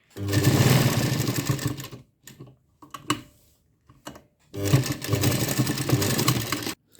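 A sewing machine stitches a blouse in two loud, steady bursts of rapid whirring needle action, separated by a quiet pause with a few short clicks and handling sounds.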